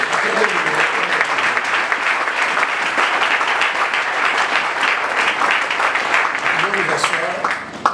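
A church congregation at a Sunday service applauds loudly and continuously, dense clapping that fills the room and fades slightly at the very end.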